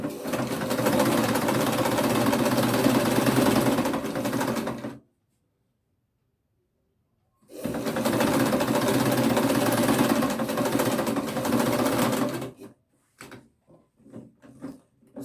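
A sewing machine stitches fabric for a pair of shorts in two long, loud, steady runs separated by a silent pause, followed by a few brief clicks and handling sounds.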